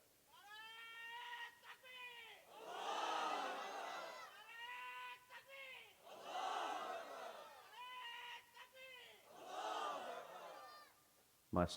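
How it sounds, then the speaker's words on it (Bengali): A crowd at a Bengali Islamic sermon gathering shouts takbir in unison. Three loud, swelling collective roars alternate with a single man's drawn-out amplified calls. "মাঝখান থেকে একজন সমস্বরে জোড়ালো আওয়াজে তাকবীর লাগান"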